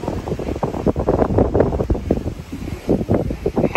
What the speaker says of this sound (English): The wind's blowing your bobber like crazy.